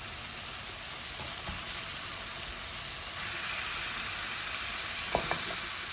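Pork spare ribs hit a hot pan for searing in a home adobo recipe, giving a steady broadband sizzle that grows louder and denser partway through, with a few sharp pops and clicks near the end and no talking.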